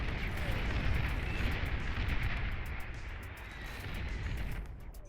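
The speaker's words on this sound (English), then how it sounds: "Shiva's just taking so much damage from that artillery." Artillery fire in the Beyond All Reason strategy game, heard as a dense, continuous roar of distant booms and rumbling blasts that swells and fades slightly over several seconds, with no talk.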